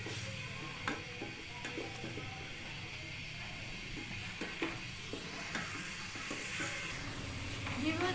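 Turmeric masala being stirred and fried in a pan, a faint steady sizzle with intermittent scraping spoon strokes against the pan, quiet and close.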